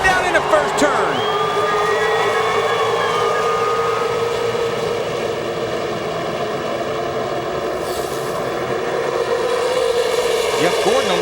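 Stock car engines roar and drone together as cars pass in a pack at Daytona in 2002, a loud continuous rush with pitch shifts, crowd and announcer noise underneath.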